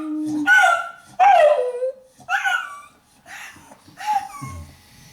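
A small dog howls in drawn-out, wavering cries, several rising and falling wails with brief pauses between them, close and fairly loud.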